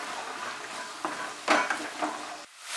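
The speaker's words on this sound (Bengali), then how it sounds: "মাশরুমটা ফ্রাই করার পর এর মধ্যে আমি ভেজগুলো দিয়ে দিচ্ছি। গাজর, ক্যাপসিকাম, সুইট কর্ন।" Carrot, capsicum and sweet corn stir-fry with mushrooms in a pan, giving a soft continuous sizzle broken by a few scraping stirs and light clatters of the spatula, close and moderately quiet.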